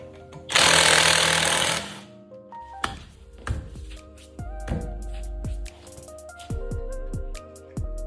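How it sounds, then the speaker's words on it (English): Lug nuts come off a 2019 Ford Escape wheel: a loud burst from an impact wrench opens, then clanks, taps and metallic thuds follow up close. "All you have to do is take the lug nuts off"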